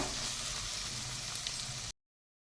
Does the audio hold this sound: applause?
no